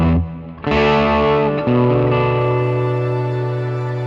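An electric guitar played through a Fractal preset modelling a Fender Twin amp with Ursa Major reverb rings out with a few loud, saturated chords that sustain and decay slowly under a wash of reverb, close with no speech.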